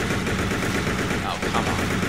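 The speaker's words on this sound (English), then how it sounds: "Like with a spamming assault rifle fire." Assault rifle fire rattles continuously in the Resident Evil Survivor 2 Code: Veronica video game, a dense, loud, unbroken burst of automatic shots.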